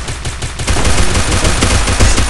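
Dense video game gunfire from a USP pistol and other guns in a Free Fire match, loud continuous volleys of rapid shots filling the whole stretch with no talk.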